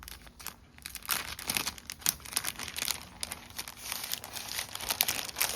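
Sticky vellum price sticker packs crinkle and crackle up close as they are handled, a steady run of papery rustles with sharp crisp bursts throughout.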